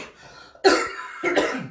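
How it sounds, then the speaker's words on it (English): Two quick close coughs into a hand during home cooking, sharp and throaty, separated by a brief pause, in a quiet room. "I've just coughed into my hand"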